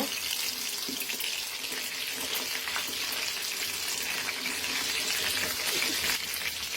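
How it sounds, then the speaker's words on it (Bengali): Chicken pieces for chicken chaap fry in a pan over medium heat, making a continuous, even hissing sizzle that stays steady throughout, close and without talk. "মাংসগুলো ভাজা হয়ে গেছে"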